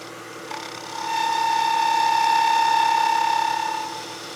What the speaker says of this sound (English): I'll get my spindle gouge. I'm going to take a very delicate cut here.